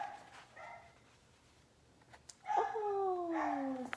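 Two dogs bark and whine together in a short burst of high yips and bow-wows, fairly close, after a quieter stretch of faint room noise.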